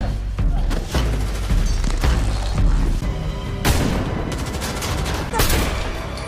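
Gunfire in a heist movie scene, heard as a rapid string of loud, close shots and bursts with booming impacts throughout, under dramatic soundtrack noise and with no talking.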